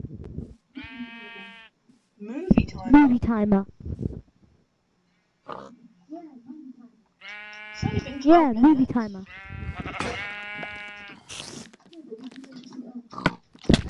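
Sheep bleating in a blocky survival video game, several short wavering bleats scattered through the clip, mixed with people talking over voice chat and some chewing-like clicks.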